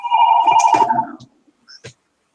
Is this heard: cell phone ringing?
yes